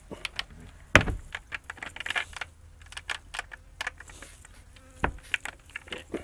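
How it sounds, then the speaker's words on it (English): Agitated bees buzzing faintly and steadily near a chicken coop, with scattered close clicks and knocks over the hum. "And our bees are really upset today for some reason."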